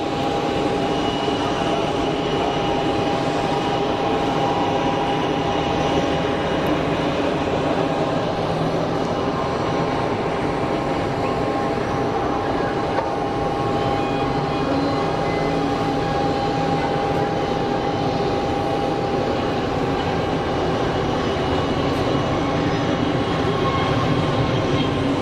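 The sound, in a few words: Airbus A320-200 aircraft at Geneva Airport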